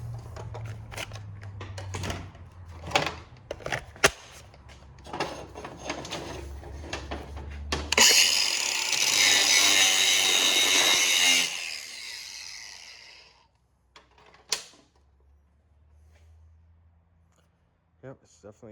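An angle grinder bites into a dense piece of metal to test whether it is copper, giving a loud, bright grinding burst of a few seconds after clicks and handling noises, then spins down.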